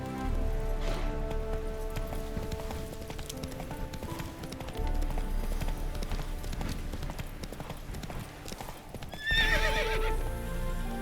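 A horse gallops in The Witcher 3, its hooves clip-clopping steadily and closely through the whole stretch, and a sharp neigh rings out near the start and again at the end.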